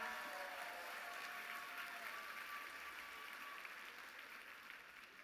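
Business conference audience gives a steady round of applause to standing leaders, a dense even wash of clapping, quite faint and distant, slowly fading toward the end.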